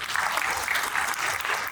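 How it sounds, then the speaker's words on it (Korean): An audience at a railway vehicle technology seminar claps after a presentation, a steady, dense burst of applause filling the room without pause. "박수 부탁드리겠습니다"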